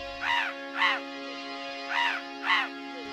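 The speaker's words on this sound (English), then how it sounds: "In response, a flock of birds answers him as they gracefully swoop by through the air." A flock of birds, identified as crows, calls out as they swoop through the air in Mustang, Nepal, giving four harsh cawing calls in two pairs over a steady tonal background hum.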